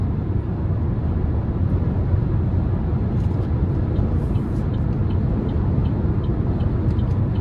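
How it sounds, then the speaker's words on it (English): Wind noise inside a 2026 Buick Envista Sport Touring while driving, a steady broad rushing roar with road rumble, constant and fairly loud, with no talk. "wind noise is a bit prevalent in here"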